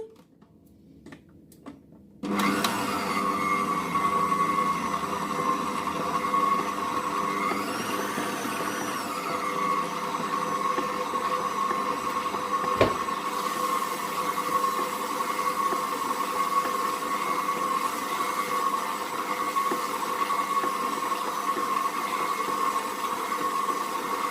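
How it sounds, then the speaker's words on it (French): A kneading machine starts up and runs steadily, mixing Moroccan msemen crepe dough with a constant motorized whir and hum, close and unbroken, with a single brief knock partway through. "Alors, on met tout dans la machine."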